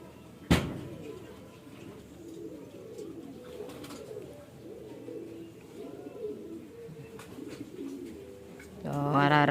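Pigeons, including a white one, come home to a loft after a training flight from San Fernando, with soft cooing and rustling close by, a sharp bang near the start and a louder flurry at the end.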